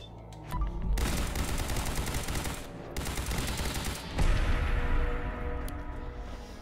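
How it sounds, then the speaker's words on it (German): Dense, rapid bursts of laser weapon fire blast continuously in Fallout 4, with brief gaps and a louder explosive hit near the end, loud and close. "Wow, Laser!"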